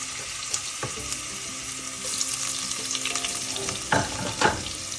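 Garlic and ginger fry in hot oil after mustard seeds have popped, for a coconut mackerel fish curry: a continuous close sizzle broken by a few sharp stirring scrapes and clinks near the end.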